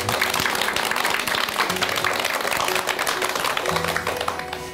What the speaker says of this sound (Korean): 오늘까지 4주 동안 알찬 강연을 해주신 김한석 교수님께 큰 박수 부탁드립니다.